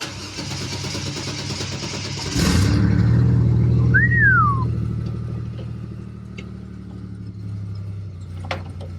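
A car engine cold-starts, cranking and catching, surging briefly before dropping into a steady low idle, with a faint whistling tone drifting above it.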